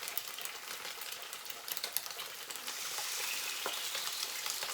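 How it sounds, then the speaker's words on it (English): Eggs sizzling in a single pan on a propane stove in a tiny house, giving a steady crackling fry that grows denser and louder toward the end, with no talk. "I'm going to crack my eggs and listen to the beautiful sizzle of protein"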